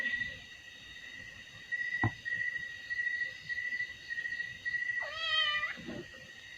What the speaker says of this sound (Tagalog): May pusa, ano na siya. Maaga din siyang gumising.